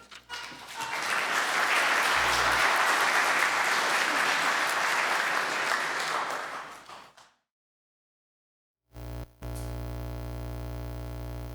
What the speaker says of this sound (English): Let's give them a warm round of applause as we celebrate their hard work and thoughtful ideas.